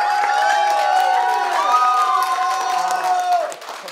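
Wedding guests applaud and cheer for the bride and groom, a dense wash of clapping and crowd noise with whoops, steady and loud for about three and a half seconds before easing off.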